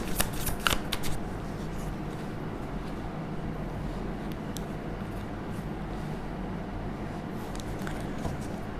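Tarot cards shuffle with a brief flurry of crisp riffling at the start, then a soft continuous papery rustle and occasional faint flicks as cards are drawn, close and quiet with no talking.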